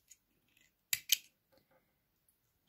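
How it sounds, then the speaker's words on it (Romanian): Scissors snipping beading thread close to a finished beaded bracelet: two quick, crisp cuts in close succession, near and alone in otherwise quiet surroundings. "Aici tai firul foarte aproape"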